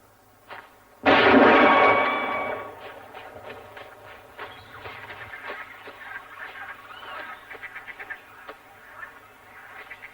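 Gunshots in a cartoon: one loud, booming blast that rings out and fades over a second or two, followed by scattered softer noises and chatter-like sounds.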